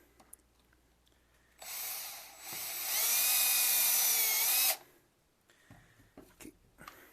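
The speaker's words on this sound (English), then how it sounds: "Drill gun and an impact wrench. For screwing the Lazy Susan bearing" A power drill or impact wrench drives screws through a Lazy Susan bearing into wooden blocks, whirring in a sustained burst of about three seconds with rising pitch, close and fairly loud, framed by quiet handling noises.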